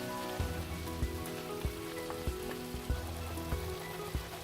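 Masala paste for dhaba-style matar paneer sizzles and roasts in a pan after yogurt is added, giving a steady close hiss with soft, regular clicks and pops running through it.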